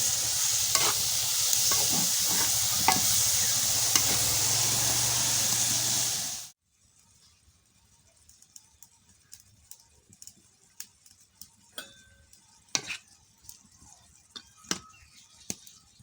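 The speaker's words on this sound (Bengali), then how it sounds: "তো টাকি মাছ দিয়ে পোড়ল দিয়ে রান্না করতেছি" Taki fish and pointed gourd sizzle loudly in a hot pan for several seconds, then the hiss cuts off, leaving quiet kitchen clatter and occasional sharp clinks.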